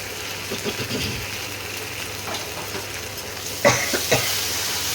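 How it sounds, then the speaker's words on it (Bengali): A spice paste frying in oil for a duck egg curry, a soft continuous sizzle with light scraping stirs and a couple of sharper clinks near the end. "এই মশলাটা কষাচ্ছি, মশলা দিয়ে এবার তেল ছাড়ছে"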